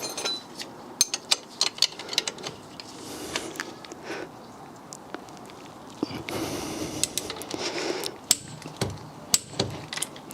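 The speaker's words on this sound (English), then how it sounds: "It's time to torque it down to 100 Newton meters now." A torque wrench tightens a new hub pinch bolt on a Mini Cooper front subframe, giving irregular ratcheting clicks and metallic clinks amid shuffling workshop handling noise, close and moderately loud.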